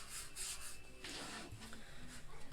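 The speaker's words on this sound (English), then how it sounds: "I'm just going to rub down the areas that I'm going to chalk." A Chalk Couture transfer being rubbed down by hand onto a kitchen sayings box frame before chalking, giving a steady, soft, close scraping rub with uneven strokes throughout.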